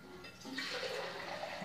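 Water is poured into homemade salt water battery cells, giving a soft, continuous splashing rush that swells briefly and stays steady and fairly quiet.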